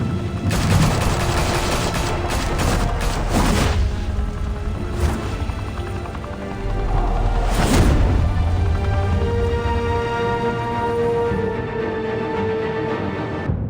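Gunfire in the video game Batman: The Telltale Series, a loud sustained volley of rapid shots with heavier blasts at intervals, continuous over the whole stretch with no talking.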